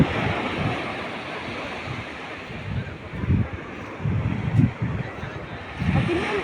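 Sea waves and surf wash in repeatedly along a shoreline, with rhythmic swells rising and falling over steady wind noise buffeting the microphone.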